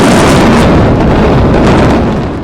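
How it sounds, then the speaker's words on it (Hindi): A controlled demolition blast brings down twin tower buildings, a loud, deep rumbling boom that rolls continuously and slowly fades toward the end. "तेज धमाका हुआ और करीब 300 मीटर दूर तक धूल का गुबार फैल गया।"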